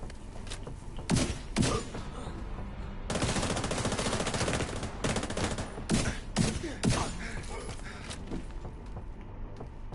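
Sustained automatic gunfire from The Division 2 video game, with dense rapid bursts and several louder shots over a continuous loud battle din. No voice is heard.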